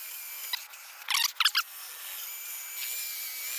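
Power drill cleaning the inside of a rear wheel bearing housing on a 1995-99 Mitsubishi Eclipse GSX, two short whirring bursts close by after a light tap, with quiet background in between.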